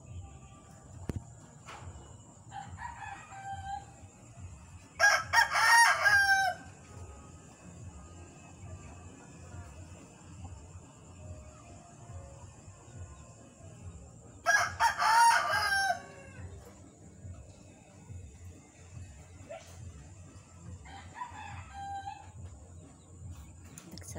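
Two loud rooster crows ring out about ten seconds apart, each answered by fainter distant crowing, over a low steady background hum.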